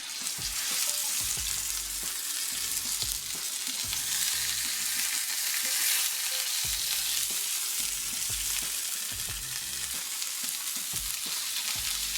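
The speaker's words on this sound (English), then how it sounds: "I want to go ahead and get our burgers on down into the fryer here." Burgers frying in a non-stick skillet for a patty melt, giving a loud, constant sizzle and crackle with steady hiss throughout and no talking.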